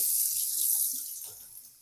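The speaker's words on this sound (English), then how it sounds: "put this under the faucet" Water from a faucet streams steadily into the tank of a water flosser. The hiss is bright and close, fading slightly as the tank fills.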